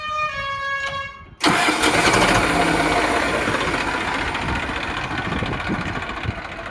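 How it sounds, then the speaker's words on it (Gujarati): A tractor diesel engine with battery self-start cranks briefly, then catches and runs at a loud, steady idle close by, with no voices. "બેટરી સેલ્ફ સ્ટાર્ટ છે."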